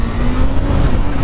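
Supercharged Kawasaki Z H2 motorcycle accelerating hard for a wheelie, a loud, close, steady engine roar with a sustained tone and no speech.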